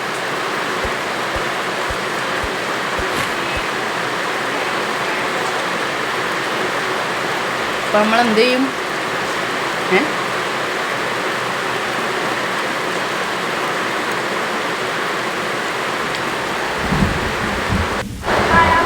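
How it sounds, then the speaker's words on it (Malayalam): Heavy rain with thunder fills the background in a Roblox game scene, a dense continuous hiss with a couple of brief louder swells, while someone speaks briefly over it. "നമ്മുടെ ഇവിടെ മഴ പെയ്യണോണ്ട് നേരെ ഞാൻ പറയുന്നത് ക്ലിയർ ആവുണ്ടാവില്ല മിക്കവാറും"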